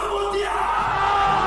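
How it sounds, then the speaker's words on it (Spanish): Stadium crowd at a freestyle rap battle roaring and yelling in a sustained, dense wave of massed voices, loud and continuous throughout. "El estadio empezaba a explotar con el grito"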